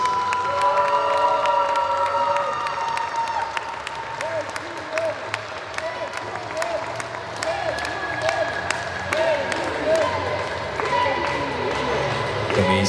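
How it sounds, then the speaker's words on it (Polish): Applause and cheering for the fourth-place team at a youth football tournament closing ceremony, sustained clapping mixed with children shouting and whistle-like cries, continuing throughout with voices in the crowd. "a zatem ocieplające oklaski dla drużyny MKS Zamek Grodziec"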